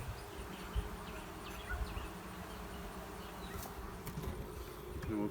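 Honeybees buzz steadily inside an opened Flow Hive, a dense close hum of many insects with brief louder passes as individual bees fly near.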